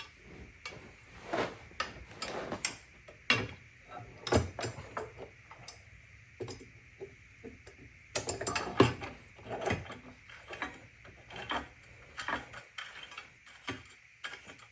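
Bolts are threaded by hand into a 2020 Honda Goldwing Tour DCT engine guard, with irregular close metallic clicks and ratcheting ticks in short bursts against a quiet background.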